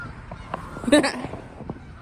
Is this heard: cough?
no